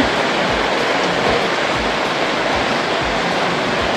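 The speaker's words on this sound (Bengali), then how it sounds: "অঝোরে বৃষ্টি নেমে রয়েছে" A steady, dense roar of heavy rain pouring down continuously, loud and close with no breaks and no voices.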